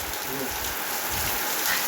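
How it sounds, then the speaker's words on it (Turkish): Dense, steady hiss of heavy rain falling continuously, with a faint murmur of voices underneath. "Bak ama nasıl yağıyor."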